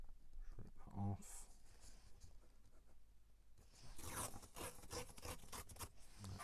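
A page torn off a notebook for a medical records project sends out close, rough ripping bursts, one short tear and then a longer ragged stretch, with a person talking over it.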